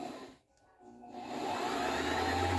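A Singer sewing machine winds thread onto its bobbin, its motor spinning up after a brief pause into a steady, loud, close whirring hum.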